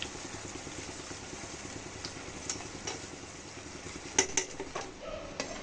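A metal lid is set onto a pot of meat cooking in thickened milk, giving a couple of faint, quick clinks over a steady low kitchen hum.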